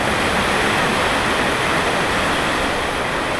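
A loud, continuous roar of fast-flowing flood water, dense and unbroken like a torrent surging past nearby.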